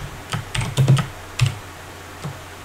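Quick keystrokes on a computer keyboard while building a game in GameSalad, a short burst of close, crisp taps followed by a few scattered presses, with no talking.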